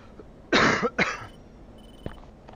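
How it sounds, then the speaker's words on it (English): A man coughs twice in quick succession close to his headset microphone during a flight-simulation bombing practice session on voice chat; the harsh bursts are loud and are followed by faint clicks and near silence. "normally I turn my mic off when I'm coughing"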